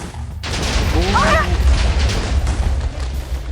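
A heavy, booming dynamite explosion in Minecraft rumbles through the whole clip, with game noise and a voice partly audible over it.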